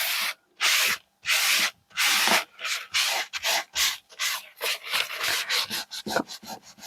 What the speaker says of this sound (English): Just give that a good old wipe.